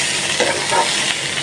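Bitter gourd (karela) frying in a pan, a steady, close hiss of sizzling oil with faint crackles and no voices.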